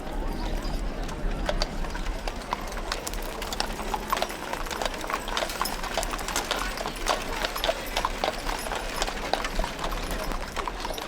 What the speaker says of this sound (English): Samantha, Rebecca, and Anthony are riding horseback behind